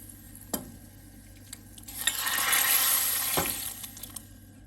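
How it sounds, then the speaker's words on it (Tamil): Hot tempering of onions and curry leaves poured into a pot of sambar: a soft, steady sizzle that swells for a couple of seconds, with a few light clinks of a spoon or pan. "இப்போ நம்ம தாளித்ததை அப்படியே சாம்பாரில் ஆட் பண்ணிக்கலாம்"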